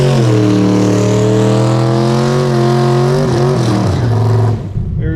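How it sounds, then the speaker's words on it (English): A Camaro race car at a drag strip, 440ci with nitrous on slicks, holds a loud steady engine drone with strong harmonics. The pitch wavers near the end before the sound drops away. "We don't know much about this Camaro, but it sure sounds good."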